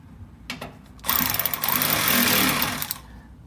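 Bolts being tightened on a 2001 Ford Explorer fuel pump: a few light clicks, then a loud, close whirring drive of about two seconds that cuts off sharply.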